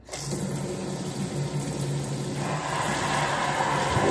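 Water runs steadily from a sink tap, a continuous close hiss and splash with a slight shift in tone partway through, no voices.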